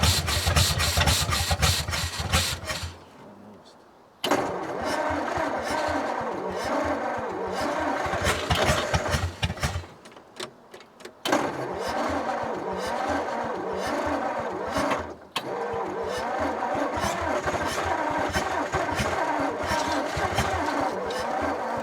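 A flathead Ford engine, revived after 55 years of sitting, runs rough on only six cylinders and won't settle into an idle, giving a loud uneven chugging with hiss and brief dips where it nearly stalls.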